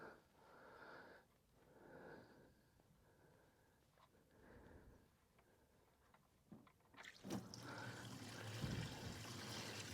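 Water trickles and splashes out of a seized Scout 800 Aristocrat engine, quiet soft dribbling at first, then a sudden louder rushing pour near the end, close by.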